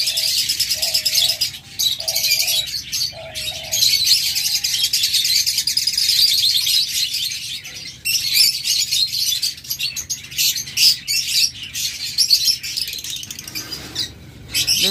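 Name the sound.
diamond dove calling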